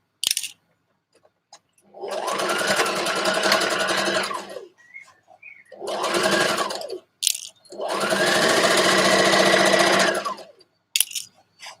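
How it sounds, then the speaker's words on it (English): A sewing machine stitches a dress sleeve seam from the bottom up, three loud sustained bursts of fast mechanical whirring separated by short pauses and small clicks, with no speech. "I'm stitching the sleeve from the bottom, go right up and stitch out the sleeve."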